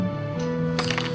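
Coins drop and clink, a burst of bright metallic jingling near the end over a steady hum of background music, with a lighter clink shortly before.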